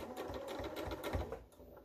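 Sewing machine stitching two layers of fabric for an XL tote bag, a close, quiet, rapid rhythmic needle patter running steadily before easing off near the end.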